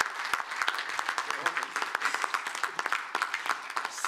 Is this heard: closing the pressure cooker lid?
no